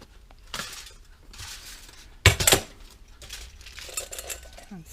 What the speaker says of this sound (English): We're gonna take it out of the container and flip it over.